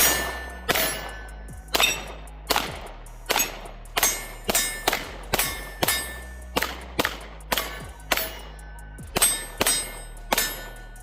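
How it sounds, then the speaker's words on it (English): A Sig P365 Fuse pistol fired one-handed at steel targets, about fifteen sharp shots in an irregular steady string, each crack followed by a bright metallic clang ringing off, no talk. "Try some one-handed shooting here."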